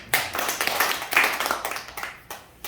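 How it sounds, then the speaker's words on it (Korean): An audience at a health product demonstration claps several times in a quick, fairly even rhythm, a crisp run of hand claps heard close with little else around them. "박수 세 번 치겠습니다"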